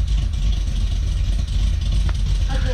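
A Cadillac CTS-V engine idles with a steady low rumble and slight unevenness, close by, with a faint brief voice near the end.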